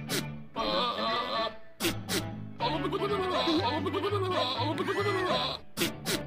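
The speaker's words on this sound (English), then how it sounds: "if you really listen to the goat is singing the theme to Green Acres" A goat bleats loudly and close in long, wavering cries that almost sound like singing, broken by brief pauses.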